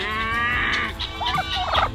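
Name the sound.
turkeys gobbling on a farm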